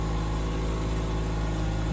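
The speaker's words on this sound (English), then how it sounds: "Lovely engine sound." A 2016 Mazda3 (Axela) 15C with low mileage idles just after starting, a steady, even hum with a constant hiss throughout and nothing else heard.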